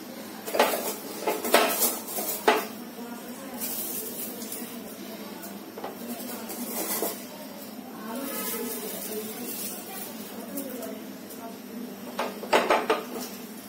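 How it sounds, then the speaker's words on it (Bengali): Pieces of hilsa fish going into a pot of Bangladeshi ilish polau, heard as scattered metallic clinks and scrapes of utensils against cookware, with a few louder knocks, under ongoing talk. "এখন আমি এখানে বাকি ইলিশ যে কয় পিস রেখেছি ওটাও দিয়ে দেব।"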